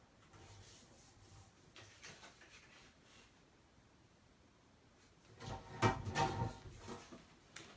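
Paper is scored with a tool for a photo album box, making soft rubbing and scraping strokes near the end, with quiet handling noises earlier.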